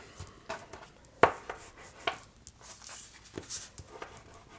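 Paper is folded and firmly creased while assembling the belly band of a Photoplay Paper Folio 10. A sharp crackle comes early, followed by a second smaller one and soft, scattered rustles and scrapes, close and fairly quiet.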